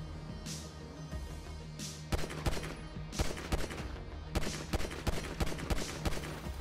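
Rapid bursts of gunfire in GTA 5, sharp cracks and short volleys spread across several seconds over a background hum, some shots louder and closer than others.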